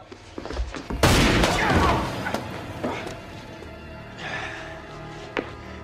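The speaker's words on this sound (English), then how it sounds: "but Pete arrives to shoot the place up." Gunfire in a shootout scene from the Smallville episode Nicodemus: a loud, dense burst of shots erupts after a quiet second and decays over a few seconds, followed by scattered thuds and crashes.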